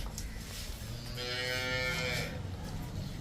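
A cow gives one long, low moo lasting about a second, fairly faint over a steady background hum.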